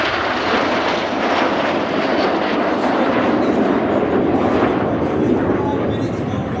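Royal Air Force Red Arrows jets at a RIAT 2024 flying display, a loud continuous broadband roar of jet engines with no break, filling the air throughout.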